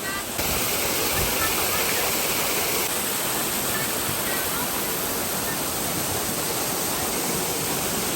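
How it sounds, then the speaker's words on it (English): Waterfall in Hawaii roaring as a steady, loud broadband rush of falling water that fills the whole clip without pause. "There's a waterfall there."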